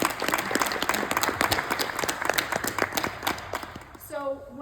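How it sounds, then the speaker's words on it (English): A room full of people gives a round of applause for student athletes at a mental health presentation, dense clapping that fades out near the end as a voice begins speaking. "I want to give you a round of applause"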